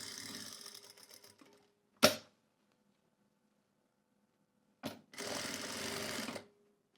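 A sewing machine stitches bias binding onto fabric in short runs, a fast close whirring chatter that starts, stops, starts again and ends, with clicks and silence between the runs.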